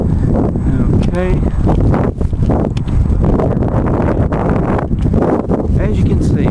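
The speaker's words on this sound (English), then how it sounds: "As you can see, it's just a little bit windy." Strong wind buffets the microphone in a constant roaring gust, loud and close, with no voices.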